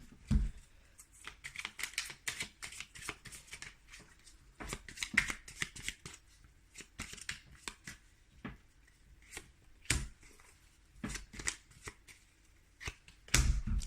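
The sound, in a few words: shuffling tarot cards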